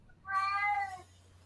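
A cat gives a single clear, drawn-out meow, close and fairly loud, with a low steady hum underneath and no talking.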